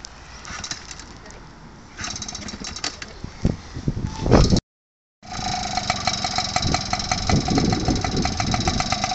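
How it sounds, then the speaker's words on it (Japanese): A worn Yamaha QR50 small motorbike engine is started and settles into a rattly, uneven idle, steady and close, with a brief silent break partway through. "エンジンかけてごらん。"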